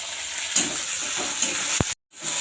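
Ground spices frying with onion and garlic for a chicken kosha, a short burst of steady close sizzling with a few stirring scrapes and a sharp knock before a brief cut.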